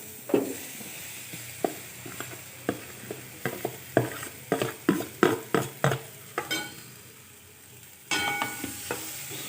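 Boiled potatoes with turmeric are stirred in a frying pan, a spatula scraping and tapping in a steady series of close knocks over a soft sizzle, no voices.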